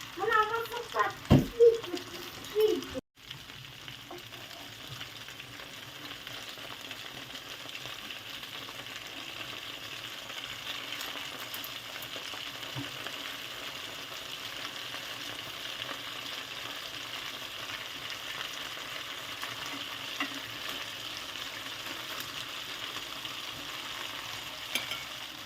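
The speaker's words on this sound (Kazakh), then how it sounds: "Котлетімді қуырып болдым." Fish mince cutlets frying in oil in a pan, a soft, steady sizzle running throughout, with brief talk and a clatter near the start before the frying carries on alone.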